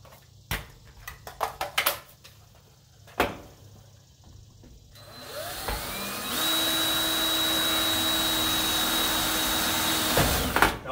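A power drill whines steadily as it bores through metal roofing tin on a pole barn home, coming after a few knocks and clatters from handling the work.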